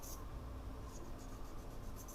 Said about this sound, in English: And then maybe slightly erase this